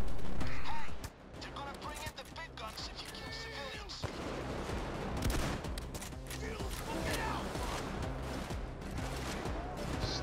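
Dense, continuous gunfire from enemy police in Payday 2 during a big bank heist, rapid rhythmic shots and impacts layered over game music, with a player's voice occasionally audible.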